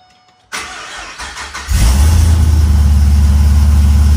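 A starter whirs briefly, then a V8 engine catches on a cold start and roars into a loud, deep, rumbling idle right up close.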